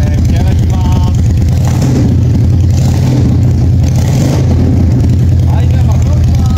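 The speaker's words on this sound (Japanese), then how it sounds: "エンジン始動いきたいと思います" A loud Yamaha DragStar 400 air-cooled twin motorcycle engine with a drag pipe muffler, starting, idling and revving with a deep, lumpy throb, close by, while a person talks over it.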